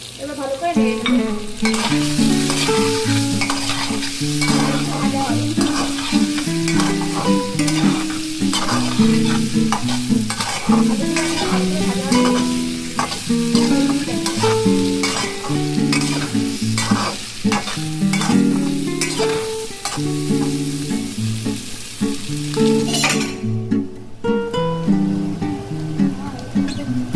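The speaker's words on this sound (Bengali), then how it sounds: "এর মধ্যে অর্ধেক ভাজা মশলাটা আমি দিয়ে দিলাম। এবার ভালো করে নেড়ে নেব।" A potato curry (aloo dum) is stirred in a pan after half of a fried ground spice mix, salt and Kashmiri chilli go in. Steady sizzling and repeated scraping strokes run continuously, close up, over a tonal background.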